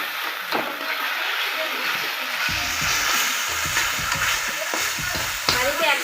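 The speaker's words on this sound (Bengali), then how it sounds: "এখন আমি এটা ভালো করে কষিয়ে নিব।" An egg and potato masala seasoned with cumin powder and salt is stir-fried in a pan, giving a steady sizzle with repeated scraping stirs and a muffled voice underneath.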